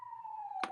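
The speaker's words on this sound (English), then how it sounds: "There's the siren." A police siren in a city street, a steady sustained wail with a slowly falling pitch, fairly faint and distant, ending in a short burst of broadband noise.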